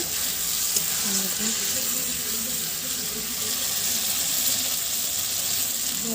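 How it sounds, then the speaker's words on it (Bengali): Mutton braising and frying in a pan, a steady close sizzle with faint stirring and scraping underneath, continuous and fairly loud with no talk. "এখন মাংস কষাই করছি"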